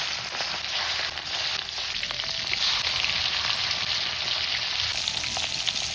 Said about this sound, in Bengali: সর্ষের তেল গরম তেলের ভেতরে মাছগুলো ছেড়ে দেব